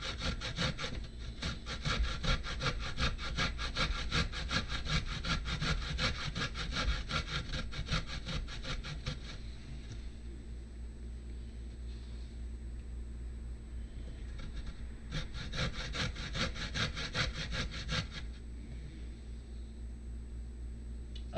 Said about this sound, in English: I am grating ginger